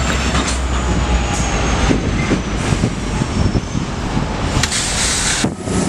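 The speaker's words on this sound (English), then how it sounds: "it was just taken off and replaced with this EMD SD70 Ace, or Ace for short" EMD SD70ACE locomotive moving through a rail yard: a loud, close, continuous rumble with clanking wheel clatter and intermittent metallic squeal bursts, no speech.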